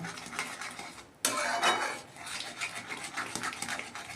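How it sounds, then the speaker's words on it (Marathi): A spoon scrapes and clinks against a pan as besan (gram flour) is stirred for pithla, with rhythmic close scraping, a sudden louder stretch midway and a faint sizzle underneath. "इथे अशा पद्धतीने बेसन हलवून घ्यायचं आहे"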